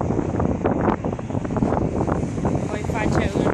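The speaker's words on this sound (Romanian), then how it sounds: "acest vânt este incredibil!" Strong wind buffets the microphone in continuous loud gusts, with surf-like roar underneath and faint voices.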